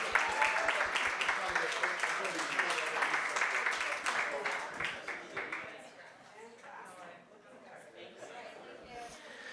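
Audience applause at an American Express Black History Month event, dense clapping that starts loud and gradually thins and fades over several seconds, with crowd chatter mixed underneath.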